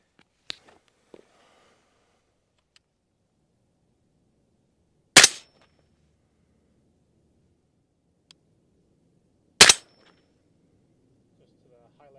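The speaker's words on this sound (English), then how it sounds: "Gonna shoot this hopefully third and final group." Two sharp, loud rifle shots from an RD MK1 MOD1 DMR fitted with a CVLIFE 5-25 Eagle Blaze scope, fired at a target while zeroing, spaced several seconds apart, with faint clicks and quiet background between them.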